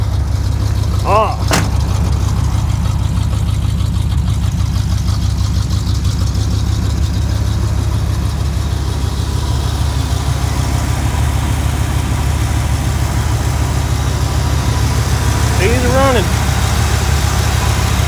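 A Chevrolet Suburban engine idles steadily with a low, even rumble throughout, while a few brief chirps cut in near the start and again near the end.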